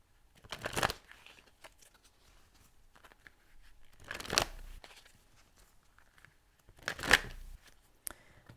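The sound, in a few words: shuffling a deck of energy cards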